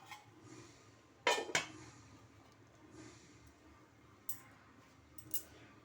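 A metal lid is set onto a kadai of biryani: a sharp double clatter, then two lighter clinks later on, close by in an otherwise quiet kitchen.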